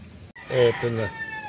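A gamecock rooster crows once at close range, a loud drawn-out call with a rising start and a long falling tail, following a short burst of background noise and a brief pause.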